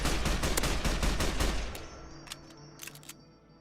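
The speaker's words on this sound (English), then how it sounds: "I'm gonna shoot it with a marksman carbine." Rapid burst of loud marksman carbine gunfire aimed at a wild boar in Fallout 3, dense shots for over a second followed by a few sparser, fainter single reports as the firing trails off.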